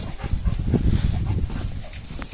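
A dog moves and snuffles nearby in an autumn forest, with low rustling and soft panting over a steady outdoor background; there is no talking.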